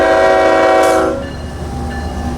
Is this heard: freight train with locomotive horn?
yes